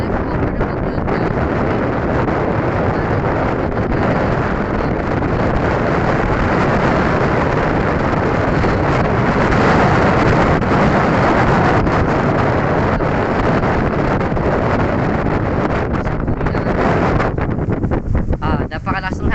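Strong wind roars continuously, buffeting the microphone with a loud, steady rumble and no break.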